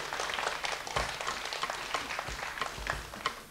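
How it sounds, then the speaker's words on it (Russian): Studio audience applauding a prize winner on the Russian Lotto TV draw show in 1996, a steady dense patter of clapping filling the whole stretch at moderate level, with no voices over it. "Мои поздравления, ваши аплодисменты."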